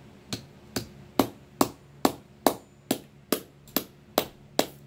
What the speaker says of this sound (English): And then I'm going to continue to hammer around.